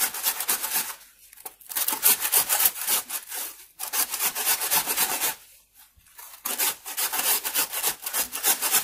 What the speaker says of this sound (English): we're just gonna get the grater and I'm just gonna grate it